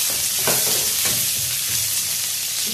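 Chopped onion sautéing in very hot oil in a pan, a steady loud sizzle and crackle with a few sharper stirring bursts, no voices.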